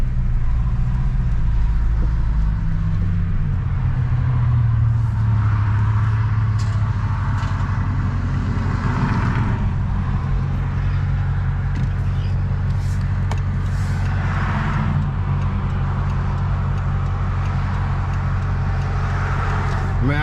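A Dodge Charger R/T with a straight-piped exhaust rumbles steadily at a deep, loud idle throughout, with occasional voices faintly in the background.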